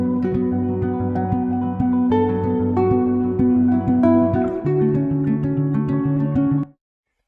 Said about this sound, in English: I grabbed the guitar melody that I showed you in the beginning, but this time without the guitar rig effect, and I let it sound like an actual guitar